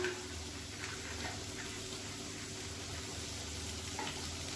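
About 100 grams of finely chopped beans being sautéed and stirred in a pan: a steady, soft sizzle runs throughout, with faint scraping ticks from the stirring.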